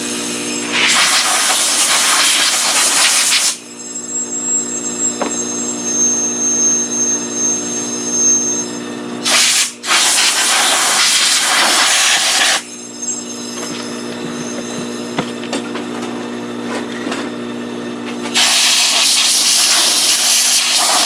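Compressed air blows crud out of the motor of an EHCO edger in three loud, close hissing bursts, a long one at the start, a brief one midway and another at the end, with quieter workshop hum between them.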